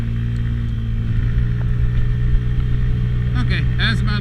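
A Honda Ruckus scooter engine runs steadily at close range, a low droning hum throughout, with a person talking over it near the end.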